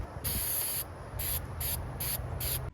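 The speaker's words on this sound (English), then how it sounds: "The next thing I did was coat this thing with a ton of coats of Flex Seal." Flex Seal is sprayed from an aerosol can onto a fishing lure in a series of sharp, close hissing bursts, one longer blast followed by several short ones.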